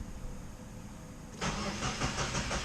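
A Subaru WRX with a flex-fuel tune cranks and fires, a sudden loud start breaking over a steady background hum and settling into a rough, pulsing run, close to the car.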